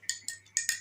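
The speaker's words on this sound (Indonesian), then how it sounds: "Kita aduk." A colloid mixture stirred in water gives four quick, faint clinks of a utensil against a glass, spaced unevenly with a soft ringing tail after each, alone in a quiet room.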